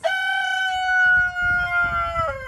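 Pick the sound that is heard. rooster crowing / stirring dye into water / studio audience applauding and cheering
rooster crowing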